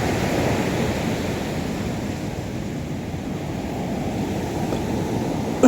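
Steady broadband wash of ocean waves on a beach, continuous surf and wind-like roar throughout with a brief louder burst at the very end; no talking.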